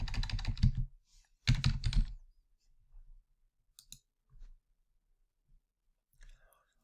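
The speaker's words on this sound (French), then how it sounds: "on fait find, et on va taper Daniel" Typing on a computer keyboard, with two quick bursts of close key clatter followed by scattered single key clicks.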